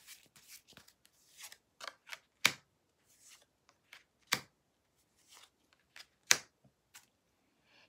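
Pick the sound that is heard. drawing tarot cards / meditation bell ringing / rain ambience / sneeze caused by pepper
drawing tarot cards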